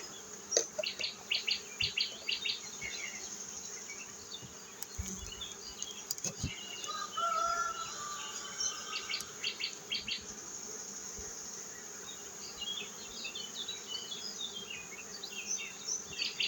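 Honeybees drone in a dense, steady hum as a strong apiary colony is opened during a monofloral honey harvest, with scattered birdsong and light handling knocks mixed in throughout.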